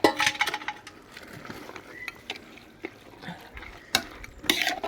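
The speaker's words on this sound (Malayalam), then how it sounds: "മട്ടൻ നമ്മൾ ഒന്ന് ഇട്ട് കൊടുക്കുവാണേ ഇട്ട് കൊടുത്തൊന്ന് ഇളക്കിയെടുക്കട്ടെ" Mutton goes into a pot of gravy for a curry and is stirred, giving close, irregular wet clinks, scrapes and soft splashes of a spoon against the pot, with no talking.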